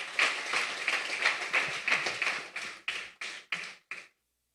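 Congregation applause in a church, a brisk patter of clapping that thins into a few separate, evenly spaced claps before stopping abruptly into silence.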